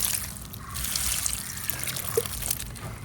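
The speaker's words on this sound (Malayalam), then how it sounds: "ഇങ്ങനെ ദാ വെള്ളം ഒഴിച്ചു കൊടുത്താൽ മാത്രം മതി വെള്ളം അങ്ങ് തോനെ ഒഴിക്കട്ടെ ആദ്യമേ" Water is poured into a grow bag of dry leaves, giving a soft, quiet trickle and splash with a few brief drips, faint and close without speech.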